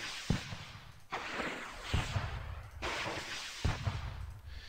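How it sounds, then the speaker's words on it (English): Bazooka team firing in the Squad Battles: Tour of Duty war game, three sharp launches spaced about a second and a half apart, each followed by a rumbling blast, moderately loud against quiet. "Let's fire with the bazooka here."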